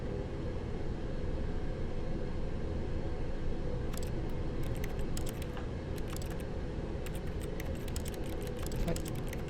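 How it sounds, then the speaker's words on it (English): Faint clusters of quick keyboard taps sound in the office game The Stanley Parable, irregular bursts of clicking set over a steady low droning hum. "Click, I just keyboard tapping, that's unnerving."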